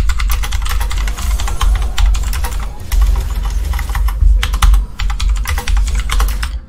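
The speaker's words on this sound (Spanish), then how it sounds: "Me raya mucho mi teclado a veces. Le tengo que pegar a la tecla" Computer keyboard keys struck hard and fast during a League of Legends match, a dense rapid clatter of clicks with a low hum underneath, close and loud throughout.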